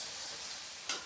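Garlic and ginger fry quietly in a pan, a soft, steady sizzling hiss with one brief clink near the end.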